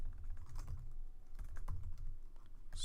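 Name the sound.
typing on a computer keyboard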